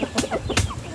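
Native chickens clucking busily while pecking at termites, short repeated clucks up close and moderately loud, no voices.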